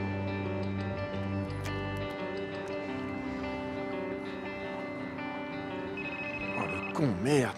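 A mobile phone rings indoors with a steady, repeating electronic ringtone that plays for several seconds at close range, followed by brief rustling sounds near the end.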